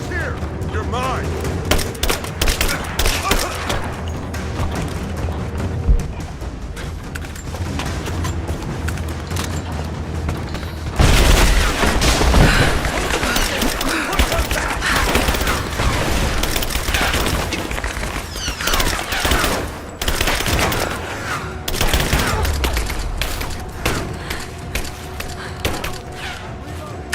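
Dense gunfire from the video game Rise of the Tomb Raider, with rapid bursts, booms and a sustained fusillade that swells louder midway, and game voices shouting over the shooting.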